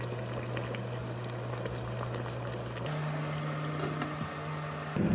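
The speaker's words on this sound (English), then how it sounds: "Once the water is boiling, I place a steamer basket on top" Water boils in a pot beneath a steamer basket holding sweet potatoes, giving a steady, close bubbling roar with a low constant hum and no talking.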